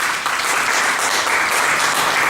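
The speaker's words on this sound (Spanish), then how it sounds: "Denle un aplauso al Señor" A church congregation bursts into loud, sustained applause, a thick wash of many hands clapping without pause.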